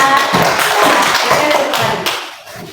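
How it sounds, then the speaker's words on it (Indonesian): A classroom of students claps for a group presentation, a dense, loud patter of many hands that holds steady and then tapers off near the end. "Kita berikan tepuk tangan dulu"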